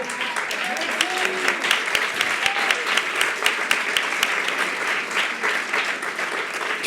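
An audience at a 2016 eloquence contest applauds Françoise with steady, dense clapping that carries evenly from start to finish, a full room's sustained ovation.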